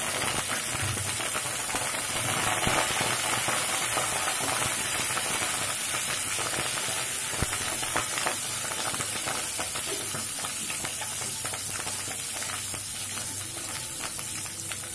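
Curry leaves and chillies frying in hot oil for dosa, a steady dense sizzle and crackle that hisses continuously and close up for the whole stretch, with no voices.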